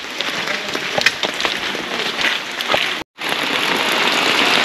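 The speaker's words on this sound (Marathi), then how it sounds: "पाऊस बघा किती आहे ती." Heavy monsoon rain pouring down in a village in Maharashtra, a dense continuous hiss with scattered sharp drop impacts on nearby surfaces, steady and close, briefly cut off for a moment before resuming at full strength.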